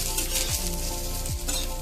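Jackfruit fries in a pan with a steady, close hiss and crackle of hot oil, broken by a couple of soft scraping stirs.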